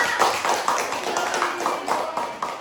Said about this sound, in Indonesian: tepuk tangan dulu untuk Sela dong